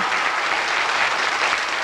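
Studio audience applauding steadily on a 1989 French Jeopardy game show, a dense, even wash of clapping that holds at full level throughout.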